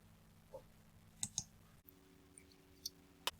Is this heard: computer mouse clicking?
yes